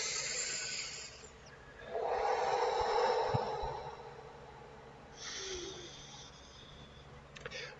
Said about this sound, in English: Long, slow breaths, focusing more on the exhale than the inhale.